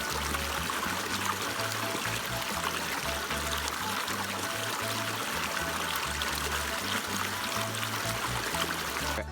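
River water flows steadily through jungle at La Macarena, Colombia, a dense, constant rushing wash that stays even and close throughout, with no voices.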